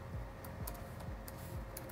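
Keys on a computer keyboard are tapped in a quick, fairly regular run of soft clicks, faint and close, with no talk.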